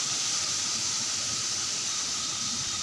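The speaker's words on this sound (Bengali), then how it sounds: "পটল আর আলু দিয়েছি একটু ভালোভাবে ভাজিয়ে নেব এটাকে" Diced potato and pointed gourd fry together in a pan, making a continuous, even sizzling hiss heard close up with no voices.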